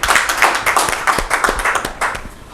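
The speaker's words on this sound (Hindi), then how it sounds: "एक बार जोरदार ताली हो जाए।" An audience at a Rajasthan Parishad event claps loudly, a dense, close burst of many hands beating in quick, uneven rhythm that eases slightly toward the end.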